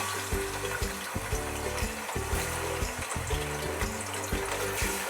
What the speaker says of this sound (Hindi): हमारा ऑयल गरम हो गया है, अब हम इसमें ऐड करेंगे चिकन अपनी जो हम फ्राई करेंगे